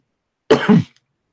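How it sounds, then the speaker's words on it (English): A single close, rough throat clear running straight into a short cough, about half a second of sound in otherwise silence. "That coughing says enough."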